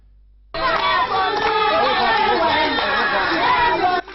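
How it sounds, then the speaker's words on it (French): A crowd of residents of the Gbessia Port 1 neighbourhood cheers and sings together, a dense, steady mass of voices for about three and a half seconds after a quiet start. "Des acclamations et des chants qui témoignent la réjouissance des habitants de Russia au quartier Gbessia Port 1"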